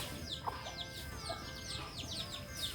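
Chickens on a rural farm cluck in quick, overlapping calls over a constant low background hum, moderately near and fairly quiet.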